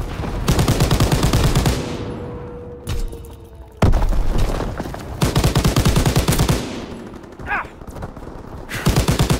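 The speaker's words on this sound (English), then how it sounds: "The hell is shooting me?" Heavy gunfire in the World War II shooter Call of Duty: WWII, loud sustained machine-gun bursts rattling close by, broken by brief lulls and booming impacts between the volleys.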